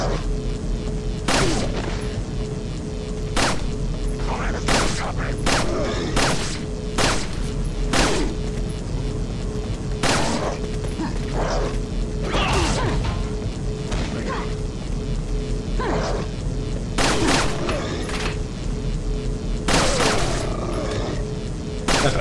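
Repeated sharp gunshots crack out at irregular intervals, some in quick bursts, over a constant low hum with occasional talk in between, in the video game Resident Evil 4 (2023 remake) on PS5.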